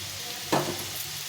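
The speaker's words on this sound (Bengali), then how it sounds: "আলু আর পটলটাকে লাল লাল করে ভেজে নিতে হবে" Potato and pointed gourd pieces browning in oil in a pan, with a steady close sizzle and a brief louder crackle midway.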